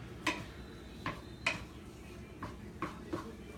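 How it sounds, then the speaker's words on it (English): A utensil stirring food in a pan on the heat, producing soft, evenly spaced clinks and taps against the pan over a quiet background. "I'm going to put that back on the heat, and I'm going to stir that a little bit more"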